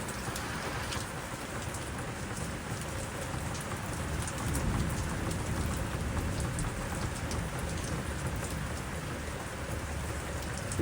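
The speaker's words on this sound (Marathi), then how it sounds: "मुसळधार पाऊस" A heavy monsoon-style downpour drums over a village in a thick, unbroken roar of rain that swells a little louder midway, with no one talking.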